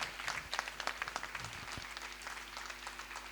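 Applause from the audience at a Christian thanksgiving meeting in Singapore, a steady patter of many hands clapping in a large hall, fairly quiet and continuous without talk.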